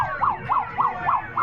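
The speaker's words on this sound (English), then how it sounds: "look at their sirens" A wailing police siren rises and falls in quick repeated cycles, loud and close, with no talking.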